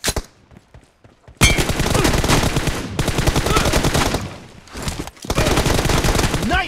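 Video game gunfire in a one-on-one match, with long loud bursts of rapid automatic shots separated by short pauses, heard close and continuous.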